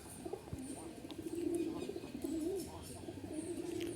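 Jalali pigeons cooing, soft repeated low coos from a flock at close to moderate distance over quiet background rustle, with faint chirps mixed in.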